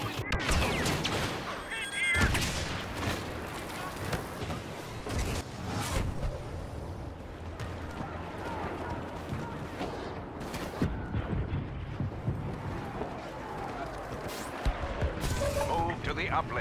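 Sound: gunfire in the video game Star Wars Battlefront

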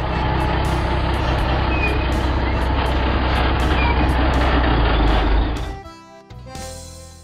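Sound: animal transporter truck driving

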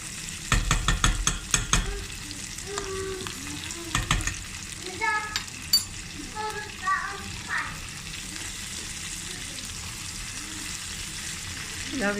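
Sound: potatoes frying in butter, being stirred

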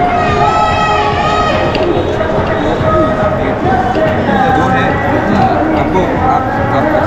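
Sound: large crowd at the India vs Pakistan cricket match

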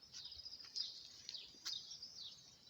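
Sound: birds chirping outdoors

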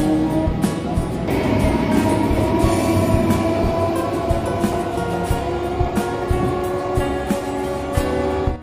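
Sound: train arriving at Naihati junction station

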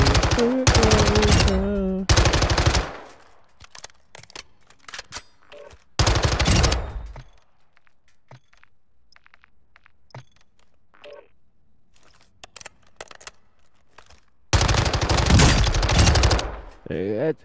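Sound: gunfire shooting a training dummy in video game Call of Duty Modern Warfare II

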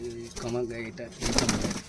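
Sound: pigeons cooing

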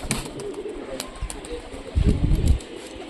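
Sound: Rajshahi Giribaz pigeon cooing

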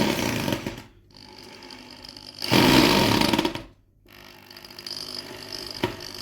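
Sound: power drill driving screw

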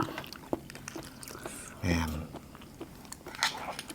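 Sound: chewing crunchy snails with bamboo shoot curry

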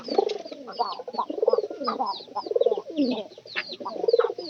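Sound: pigeon cooing

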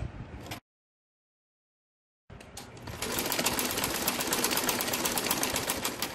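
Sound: sewing machine stitching salwar seam

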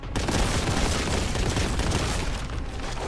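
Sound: gunfire from a gun in a retro-style FPS video game

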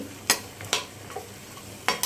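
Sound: stirring cauliflower in a frying pan

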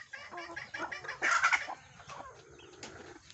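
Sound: chickens clucking in the coop

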